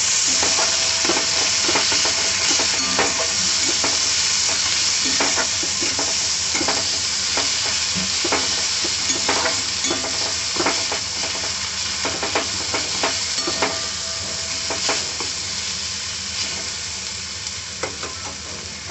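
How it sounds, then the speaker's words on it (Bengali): Spices with turmeric, red chilli powder and sugar sizzle steadily in a hot pan, with repeated scraping stirs of a spoon at close range throughout and the frying hiss fading slightly toward the end. "সামান্য, একটু লাল লঙ্কার গুঁড়ো 1/2 চামচ, চিনি, সমস্ত মশলা খুব ভালো করে কষিয়ে নেব।"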